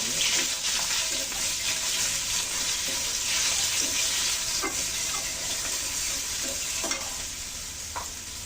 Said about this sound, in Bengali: কিছু গরম হয়ে গেছে, সামান্য জিরা দিয়ে দিচ্ছি ফোড়নে